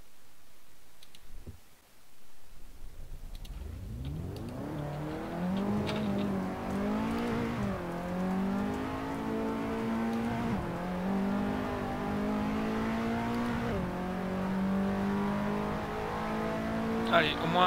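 A KTM X-Bow race car in a racing video game accelerating hard, engine revving up through repeated gear changes with steady rising pitch, loud and continuous.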